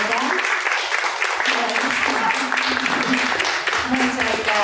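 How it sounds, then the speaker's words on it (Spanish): A concert audience gives a loud, sustained round of applause after a piano and cello duo performance in Algarrobo, dense clapping with voices speaking over it. "lo vamos a despedir con un fuerte aplauso"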